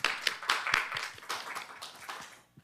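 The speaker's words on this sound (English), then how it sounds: "Let's give Tommy a round of applause." A small audience claps at a STEM workforce development session, a sparse burst of distinct hand claps that thins out and fades within a few seconds.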